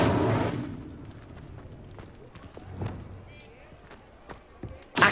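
A fire spell is cast in Hogwarts Legacy: a loud whooshing burst opens, followed by scattered thuds and crackles, and another sharp burst comes at the end.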